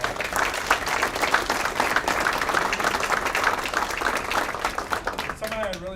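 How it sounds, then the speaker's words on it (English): At a high school Hall of Fame induction, an audience applauds the athletic directors with dense, steady clapping for several seconds that fades near the end as a voice begins speaking. "So I think we need to owe them all a big round of applause."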